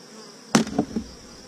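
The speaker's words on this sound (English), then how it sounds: "There's so many bees on this." Bees hum in a constant high buzz while a few sharp wooden knocks and scrapes ring out close by in quick succession.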